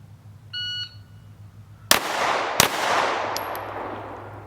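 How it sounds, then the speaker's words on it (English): Two handgun shots fired at a shooting drill, sharp loud cracks about a second apart, preceded by a short electronic timer beep, with echoing decay and outdoor ambience after. "Fire 2 body shots with your dominant hand only."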